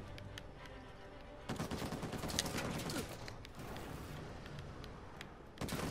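Gunfire in Uncharted 4 on Crushing difficulty: dense bursts of shots and loud volleys, heaviest through the middle of the clip, with a steady rumble of combat continuing underneath and no speech.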